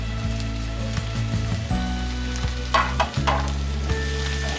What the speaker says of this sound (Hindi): अब हम इसमें डालेंगे हमारी तुरई, जिसे मैंने छील के बारीक टुकड़ों में काट लिया है।